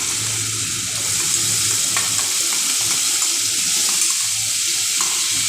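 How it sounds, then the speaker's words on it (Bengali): Spice paste for a paneer curry fries in a wok over low heat, a dense continuous hiss and sizzle with faint stirring scrapes underneath, close and fairly loud throughout. "এবার এই মশলাটাকে খুব ভালো করে আমি ভাজা করে নেব।"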